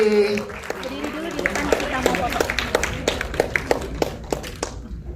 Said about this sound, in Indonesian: Kita berikan tepuk tangan untuk Aco tentunya Kelly